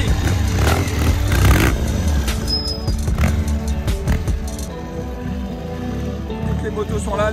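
A classic trial motorcycle engine revs and idles nearby at a trial training day, its rough throbbing note rising and settling while people talk over it.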